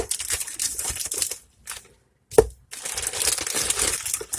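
Handmade soap bars being sliced by hand, a few close, dry crunching cuts in quick bursts separated by a brief pause of near silence.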